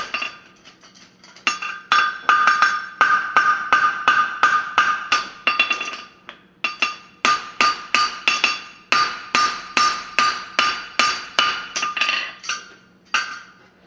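Rapid, ringing hammer blows shaping a horseshoe repeat steadily in bursts with short pauses, bright clanging strikes up close.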